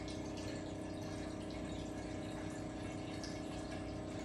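Alkaline water running steadily into a cooking pot, an unbroken rushing flow heard close up with no pauses and no voices.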